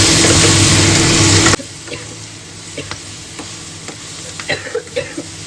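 A loud burst of hissing sizzle as ingredients go into a hot pan, then quieter stirring and scraping with small clinks and pops, close by.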